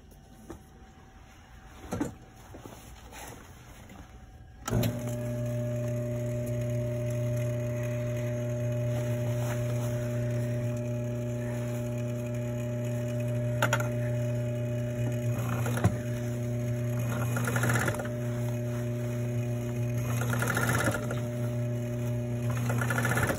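A sewing machine runs a blind stitch along a pant cuff, starting with a sudden steady hum after a few seconds of quiet handling noises and then whirring continuously, close up, with faint clicks.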